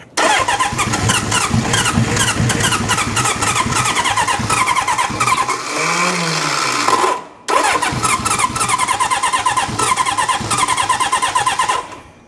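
A 1972 Honda CB750 Four motorcycle with a replaced head cranks over with the choke eased, a loud, close, rapid rhythmic churning of the starter that pauses briefly and resumes without the engine catching.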